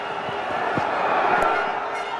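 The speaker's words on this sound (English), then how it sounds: "Indian crowd going off too, and why not?" Indian spectators roaring at a Champions Trophy cricket match against Sri Lanka, a broad, continuous stadium crowd noise heard from a distance, steady and loud with a commentator's voice faintly beneath.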